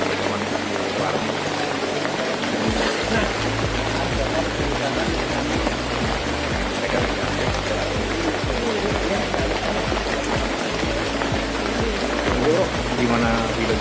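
Steady afternoon rain pours in a mountain area near the Gunung Malang hot springs in Bogor, a dense, unbroken hiss that stays loud and even throughout, with faint voices underneath.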